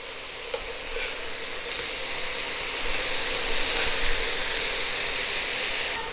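Homemade Shake Shack-style burger patties sizzling in a pan, a dense, even hiss and crackle that runs loud and close for several seconds with small pops and no voices.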